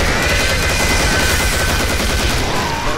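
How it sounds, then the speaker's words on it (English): Loud, dense, continuous noisy roar with rapid crackling bursts from the Killing Floor video game, matching a siren enemy's screaming attack amid heavy gunfire-like chaos, unbroken throughout. "That really loud noise is a siren."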